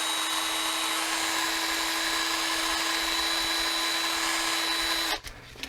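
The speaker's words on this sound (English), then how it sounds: "I'll just chuck each one of them up into a drill and do a bit of sanding on the tip." A power drill whirs steadily while spinning a stainless steel rod, its tip being sanded round, a continuous close, loud drone that cuts off abruptly near the end.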